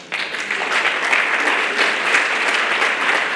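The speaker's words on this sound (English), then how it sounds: "Let's keep that applause going." Sustained audience applause fills a hall after a panel discussion, a dense, steady patter of many hands clapping at even loudness throughout, with no voices over it.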